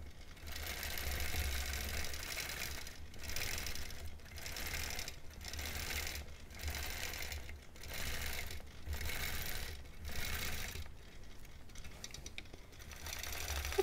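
A sewing machine quilting a small mini quilt on dark fabric, running steadily for the whole stretch with a regular pulsing rhythm from repeated short stops and starts, fairly quiet and close.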